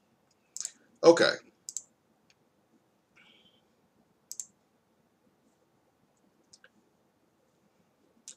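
Computer mouse clicks on a collect button, a few sharp isolated clicks spread across near silence, with a brief spoken word among them.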